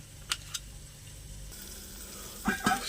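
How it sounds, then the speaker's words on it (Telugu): Brinjal and tomato curry frying in a pan, with a steady close sizzle broken by a few sharp spoon clicks early on and a louder clattering stir near the end. "అందువల్ల నేను టమాటాలు కూడా వేస్తున్నాను"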